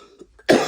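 A single sharp, loud cough bursts out close to the mic after a few soft breathy sounds, one harsh explosive burst that cuts off quickly.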